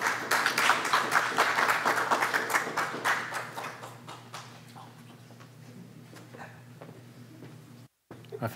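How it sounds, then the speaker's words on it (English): Audience at a Nomadic Press poetry reading applauding a reader, steady moderate clapping that gradually dies down into sparse scattered claps before a brief silence. "Let's give another round of applause to Susana."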